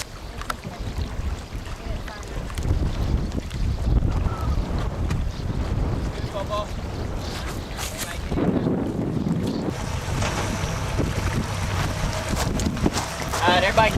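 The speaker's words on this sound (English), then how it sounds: "Going sailing with Pirate Star" A sailboat moves through open water in Alaska, with steady wind buffeting the microphone and water rushing against the hull, loud and continuous, while people talk over it.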